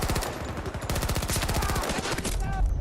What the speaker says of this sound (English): this is when I should, like, pull out the shotgun